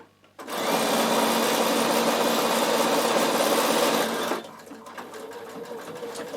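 A Bernina sewing machine sews pants with corded elastic in one loud, close, continuous run of about four seconds, a rapid steady whir that starts and stops abruptly and is followed by quiet handling sounds.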